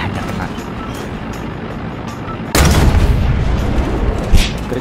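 A tank cannon fires in War Thunder from a Swedish Strv 103 turretless main battle tank, one sudden loud boom cutting through steady engine rumble and ringing out with a broad roar afterward.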